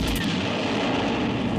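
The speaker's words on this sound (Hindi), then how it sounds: "मिसाइल सीधे अपने टारगेट पर जाकर हिट करती है और जोरदार धमाका होता है।" A guided missile strikes a house, a loud, sustained explosion roaring close and heavy with rumbling low end throughout.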